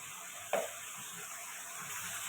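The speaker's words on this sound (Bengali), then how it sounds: "এবারে খাসির চর্বিগুলো দিয়ে দেবো। এটা দিয়ে ভালো করে কষাবো।" Whole spices sautéing in rendered goat fat for a pea and potato ghugni: a steady quiet sizzle hisses throughout, with one brief scrape of a spoon near the start.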